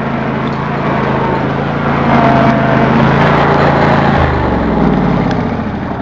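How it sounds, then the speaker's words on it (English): Small, underpowered lawnmower engine stuck in deep snow during a blizzard, running loud and close with a steady drone, then revving and shifting pitch as it strains against the snow. "A lot of snow plus dinky lawnmower equals stuck lawnmower."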